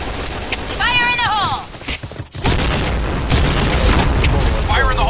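Grenade blasts and gunfire from the Point Blank shooter game boom loudly and continuously, with a synthesized voice cue and dense battle noise filling the whole clip.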